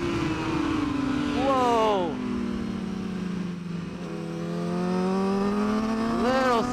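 A racing motorcycle engine in a MotoGP video game revs and climbs through gears, its whine rising and dropping with upshifts, loud and constant, while a player's voice briefly exclaims over it.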